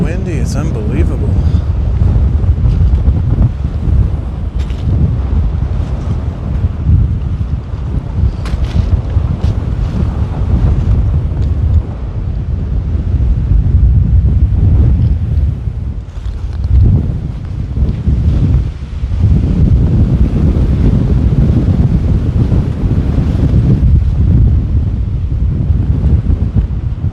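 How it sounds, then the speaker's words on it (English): Strong wind buffets the microphone in loud, continuous rumbling gusts, with faint voices and water sounds partly buried underneath. "So windy, it's unbelievable."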